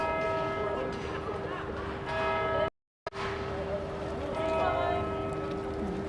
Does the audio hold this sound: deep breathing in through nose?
no